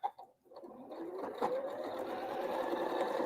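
Sewing machine stitching seams on a quilt block, starting after a brief rustle and settling into a steady, moderately quiet whirring run that holds to the end.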